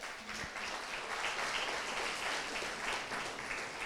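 A church congregation applauds steadily, a continuous hiss of many hands clapping at moderate distance with only faint voices beneath.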